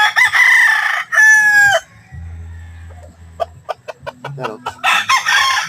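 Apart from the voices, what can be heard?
chickens and roosters crowing in a backyard chicken yard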